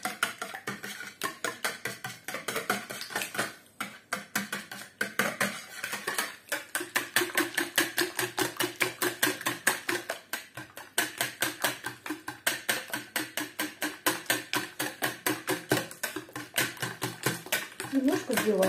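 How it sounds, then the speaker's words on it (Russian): Eggs whisked briskly in a bowl, a fast, steady rhythm of close metallic clicks and taps against the sides that runs throughout, with someone speaking over parts of it. "Немножко взбиваем яйца."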